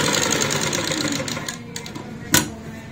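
A sewing machine stitching the centre of a leaf-pattern design on a Punjabi salwar cuff runs in a steady, continuous whir at close range, with faint talk underneath and a brief sharp clack near the end.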